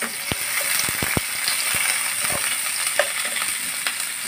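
Ginger-garlic paste and green chilli frying in a pan, a steady bright sizzle with repeated sharp scrapes and clicks of a spoon stirring through it.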